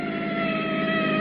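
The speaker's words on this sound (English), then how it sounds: "Harry, it does sound like a siren, doesn't it?" A distant siren drones steadily in a radio drama scene, a sustained wailing tone over a low engine-like hum, with no talking.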